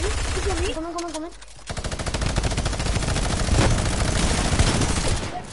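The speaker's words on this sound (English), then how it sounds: "Oh, he's shooting me." Rapid gunfire in a video game shooter: a dense automatic burst rattles continuously and loudly after a short spoken moment, with a brief gap before steady repeated shots carry on to the end.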